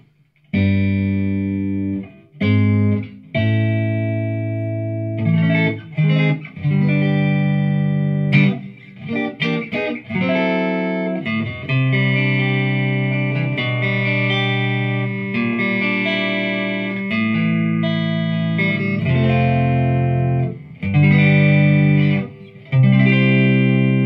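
Clean electric guitar, a PRS Silver Sky, through a tube amp with a warm tone, no compression or distortion, strummed chords and ringing notes with brief pauses, a light touch of reverb, close and fairly loud.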